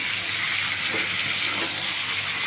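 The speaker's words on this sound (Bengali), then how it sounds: "চিকেনটা একটুখানি ভেজে নিই" Chicken fries in a pan, producing a loud, dense, continuous sizzle and hiss with faint stirring scrapes underneath, close and steady throughout.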